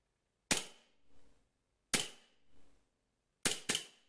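Four sharp shots from a Cybergun Colt M1911 A1 CO2 airsoft pistol crack out alone, the first three evenly spaced and the last two in quick succession, each with a brief metallic ring.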